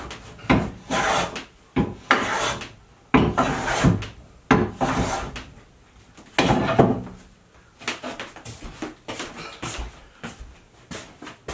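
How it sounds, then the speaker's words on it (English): Hand plane shaving wood pushed against a bench dog on a workbench, a run of about eight separate rasping strokes at close range with short pauses between them, with no speech. "you just plane into it"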